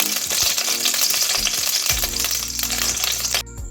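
A kadai with ghee heating for malai paneer korma gives a loud, busy sizzle with clinks and stirring scrapes. It settles into a steadier hiss before a sudden cut near the end.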